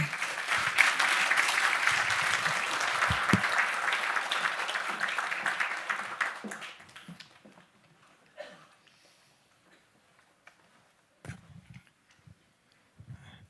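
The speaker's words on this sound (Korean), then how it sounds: "힘찬 박수로 맞이해 주겠습니다" A church congregation gives a loud, sustained round of applause to welcome a pastor to the pulpit for a sermon on mission. The clapping fills the first six seconds, then dies away to near silence with a few scattered sounds.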